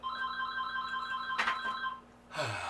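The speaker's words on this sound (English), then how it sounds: "and the phone rings" A telephone rings with a bright, sustained electronic trill. A brief clatter interrupts it, and a second ring starts just before the end.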